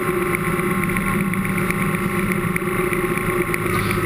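A BMW R 1100 GS motorcycle on the move, fitted with off-road tyres, gives a steady, loud engine drone mixed with heavy wind rush, constant throughout with no speech.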